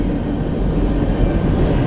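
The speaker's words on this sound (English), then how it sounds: "the train's still going" A train runs past with a steady, loud rumble and broadband roar that holds constant throughout, with no voices.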